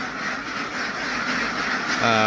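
A dense, continuous din of a newly arrived batch of about 5,000 ducks quacking together on a farm, loud and steady throughout with no pauses.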